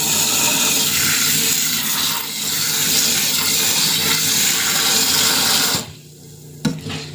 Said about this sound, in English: I'm gonna wash the rice 3 times so I can take all the starch out of it so it doesn't get sticky or anything.